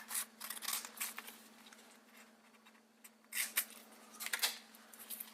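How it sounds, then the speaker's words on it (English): Scissors snip through a thin strip of tape being trimmed to wrap the edge of a homemade alcohol stove, several close, crisp cuts in bursts with a soft steady hum underneath. "Just cut a thin strip that'll go around the edge of that."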